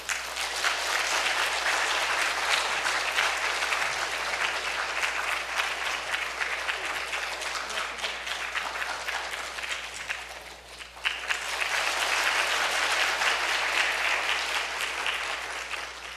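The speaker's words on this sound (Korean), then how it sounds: "여러분 박수로 환영해 주시면 감사하겠습니다." A church congregation at an afternoon service applauds in welcome, a dense, loud and sustained roar of clapping that fills the room, dips briefly near the middle, then swells again.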